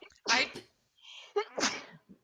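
A single sharp sneeze close by, preceded by a brief inhale, with a short bit of voice following.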